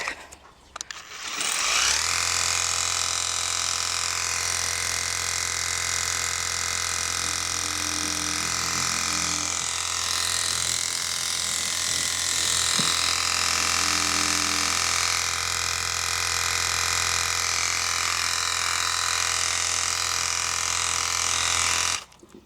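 A SESSII cordless battery power washer runs nonstop, its steady motor whine mixed with a hissing water spray. The sound stays loud and even for about twenty seconds, with no voices.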